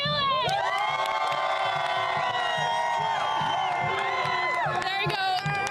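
A large crowd of Iraq football supporters cheering and shouting, a loud, continuous roar of many overlapping voices with whoops and sustained chanting tones, close and unbroken throughout.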